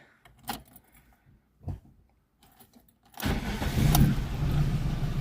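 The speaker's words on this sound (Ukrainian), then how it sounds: "На газу запускається" A VAZ 21099 car, running on gas and suffering unstable idling, starts up after a few clicks and rattles, its engine catching and settling into a steady, loud rumble.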